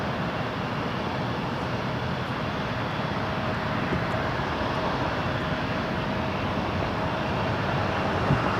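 An Emirates airliner departs Toronto Pearson Airport in misty weather, its engines a steady, distant broadband roar that holds level throughout with no voices.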